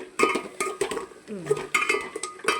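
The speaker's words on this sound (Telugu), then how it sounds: "పన్నీర్ వేస్తున్నాను." Paneer tipped into a pan already holding chilli powder and coriander powder, then stirred, giving repeated metallic clinks and scrapes of a utensil against the pan at an uneven pace, close and clear with no talk.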